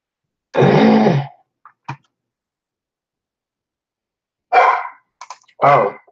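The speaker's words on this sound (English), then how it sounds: "You guys already know that my dogs are here." Dogs bark indoors during a late-night livestream: one long loud bark, a couple of short faint yips, then two more barks separated by a pause, with silence between.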